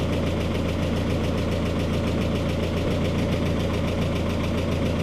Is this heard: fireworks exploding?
no